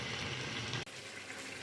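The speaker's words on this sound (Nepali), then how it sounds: "अब म यहाँ मासु हाल्दैछु।" Meat sizzles steadily in hot oil with fenugreek, a dense continuous frying hiss with one brief dip partway through.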